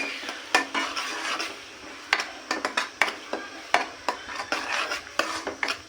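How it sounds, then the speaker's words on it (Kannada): Chana masala with freshly ground masala fried and stirred in oil in a pan, with a steady run of scraping, clinking spoon-on-pan strokes over a soft sizzle, close and moderately loud, no voices. "ಸ್ವಲ್ಪ ಚೆನ್ನಾಗಿ ಫ್ರೈ ಆಗಿ ಎಣ್ಣೆ ಬಿಟ್ಕೊಳ್ಳೋವರೆಗೂ ಫ್ರೈ ಆಗಬೇಕು ಫ್ರೆಂಡ್ಸ್"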